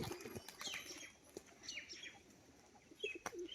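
A Giribaz pigeon's wings flap and clap in sharp bursts during a wing-clapping display, faint and a little distant, with soft bird chirps scattered between.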